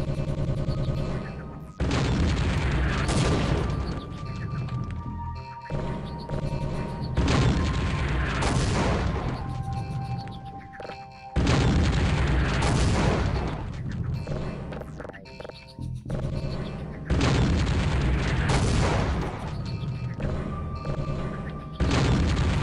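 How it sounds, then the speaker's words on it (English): Repeated heavy booming mortar explosions in the video game Half-Life: Opposing Force, loud and close, arriving in several long rumbling bursts with ringing tones in between and no talking. "mortar go boom"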